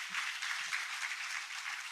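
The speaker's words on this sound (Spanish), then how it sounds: "Dele un aplauso al Señor si usted lo cree." Church congregation applauding the Lord during a sermon, a steady dense patter of many hands clapping throughout, fairly faint and even.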